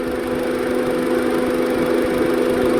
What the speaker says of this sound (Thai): เสียงคอมแอร์ตัดต่อปกติค่ะ